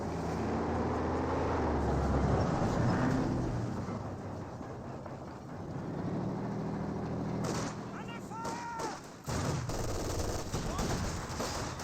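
Infantry gunfire from guards and penal troops in Company of Heroes 2 rattles in bursts alongside vehicle rumble and explosions, with a voice talking over the battle throughout.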